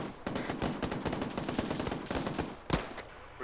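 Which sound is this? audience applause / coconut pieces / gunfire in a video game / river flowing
gunfire in a video game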